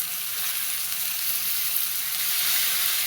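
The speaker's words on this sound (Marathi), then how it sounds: "बघा आता मस्त तेलात परतून घेतो" Chillies frying in hot oil in a pan, a steady bright sizzle that holds evenly throughout with no voices.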